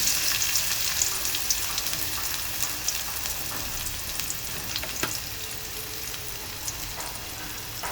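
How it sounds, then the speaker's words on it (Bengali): Chopped onion and garlic frying in oil in a pan for winter kalai greens, a steady dense sizzle throughout with a few brief stir clicks, close and fairly loud, no voices. "লাল লাল করে ভেজে নিব পেঁয়াজ রসুনটা"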